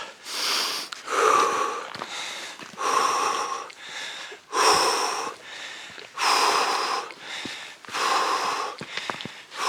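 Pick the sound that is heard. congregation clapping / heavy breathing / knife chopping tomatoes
heavy breathing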